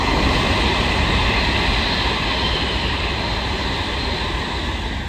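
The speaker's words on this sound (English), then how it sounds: "Soon to come through now will be a Freightliner pair of 90s going from Trafford Park to Felixstowe North" Freightliner freight train hauled by a pair of class 90 electric locomotives, Trafford Park to Felixstowe North, passes on the West Coast Main Line at Nuneaton as a loud, steady, close rumble and roar of wagons running through without a break.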